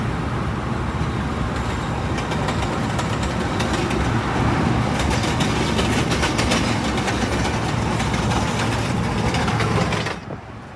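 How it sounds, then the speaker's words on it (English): A CTA train runs alongside on nearby tracks with a continuous rolling rumble and rhythmic clatter of wheels. The sound is fairly loud and steady, mixed with road noise from a moving car, until it drops off sharply at the end. "we finally saw a CTA train going in the same direction as us"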